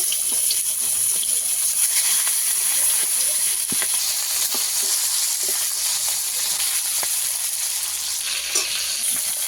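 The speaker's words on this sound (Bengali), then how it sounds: "মাথা দুটোকে ভেজে নেব।" Two fish heads fry in oil in a pan, giving a loud continuous sizzle and hiss with scattered small pops and crackles throughout.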